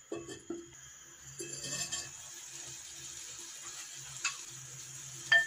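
Aubergines frying gently on low heat in a pan for an Algerian tajine, with a soft, steady sizzle, quiet stirring and occasional light clinks of a utensil, all close and fairly faint.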